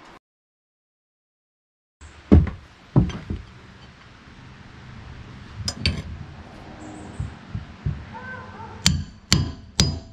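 A hammer strikes a nail in a series of sharp, separate blows, loud and close, arriving irregularly after two seconds of silence, with a quick cluster of hits at the end.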